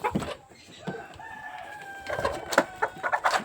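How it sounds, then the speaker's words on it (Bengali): A desi (native) rooster crows with a drawn-out call in the middle, surrounded by nearby chicken clucks before and after. "এই হচ্ছে মোরগ"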